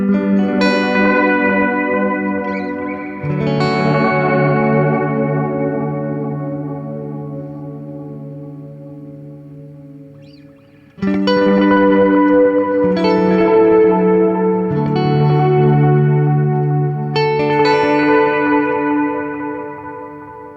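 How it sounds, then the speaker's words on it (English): An electric guitar plays through an EarthQuaker Devices Disaster Transport delay pedal set to maximum, its strummed chords smearing into long, dense, swelling repeats that ring on between fresh attacks for about twenty seconds. "so the Disaster Transport is way more in the vein of, old space echoes"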